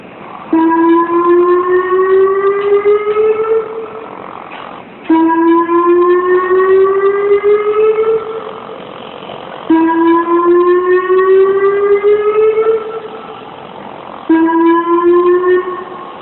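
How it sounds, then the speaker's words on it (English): A facility evacuation siren rises in pitch and holds, repeating four times in long wails separated by short gaps, loud and close. "This is the facility evacuation siren."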